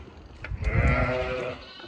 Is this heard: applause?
no